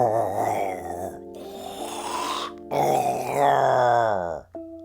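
A voice imitates a snore: long, rumbling, growly groans repeated three times, loud and close, ending in a brief higher tone.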